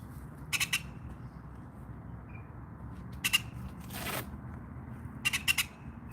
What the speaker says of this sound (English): Got a bird here joining us.